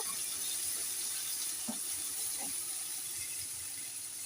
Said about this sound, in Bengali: এবার দিয়ে যে পোস্ত পাতার জলটা আছে আমি ওই জলটা দিয়ে দিলাম।